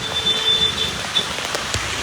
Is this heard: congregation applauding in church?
no